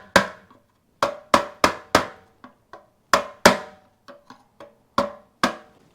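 A hammer strikes a part on a Honda SL100 engine during a teardown, sharp metallic whacks in irregular clusters of single and double blows with short ringing decay, close and loud, no talk.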